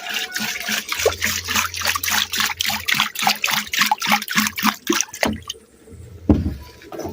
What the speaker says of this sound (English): So now we have to wash the rice 2 times.